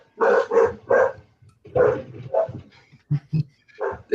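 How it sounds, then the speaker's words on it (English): A dog barks repeatedly nearby, three quick barks, then more scattered barks and yips at an uneven pace. "For anybody that hears barking, Tom brings his own government watchdog with him wherever he goes."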